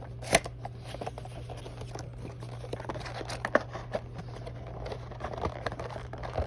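Cardboard scrapes, crinkles and taps as a die-cast toy box is pried open, with scattered sharp clicks over a low steady hum, fairly close.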